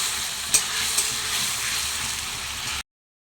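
Ginger-garlic paste and spices sauté in hot oil with a constant close sizzle, two light scrape clicks near the start, then the sound stops abruptly.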